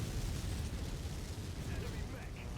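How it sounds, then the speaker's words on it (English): LRM missiles striking a mech's thin armor in MechWarrior 5 make a dense, continuous low rumble of blasts that is loud and sustained throughout, with no distinct individual impacts. "LRMs crash onto the mech's thin armor, compromising the Champion's torso in only a few combined volleys"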